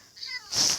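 A cat meowing in Minecraft: a short meow with a bright, rising tone, followed by a louder, higher second cry, heard up close over faint background noise.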